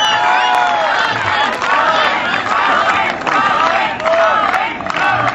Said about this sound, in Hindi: तो जोरदार तालियों के साथ स्वागत कीजिए